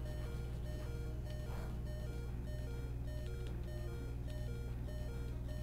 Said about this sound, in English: And I'm really sorry about that beeping.